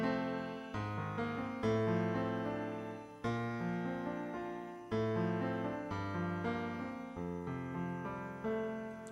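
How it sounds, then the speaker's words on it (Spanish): A ROLI Seaboard Rise keyboard controller playing a piano sound: a sequence of sustained piano notes and chords struck at a moderate, steady pace, each decaying before the next, heard clearly and alone. "This is a piano sound."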